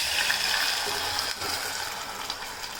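Water pouring steadily onto drumsticks in a metal pressure cooker, a continuous hissing gush with faint clinks, moderately loud and close.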